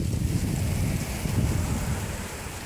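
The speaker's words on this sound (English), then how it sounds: "It really is windy though." Strong wind blowing outdoors on a gusty autumn day, a steady low rumbling roar with buffeting against the microphone that continues without a break, no talking.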